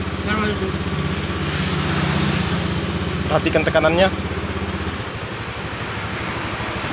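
A fuel-injected Honda Beat scooter with a fault that makes it stall completely while riding is started and settles into a steady pulsing idle, with someone talking over the engine.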